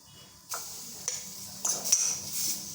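Utensil stirring a carrot and fish mixture in a pan, with light scraping and a soft sizzle. Several brief clinks and scrapes come close and moderately quiet, with no talking.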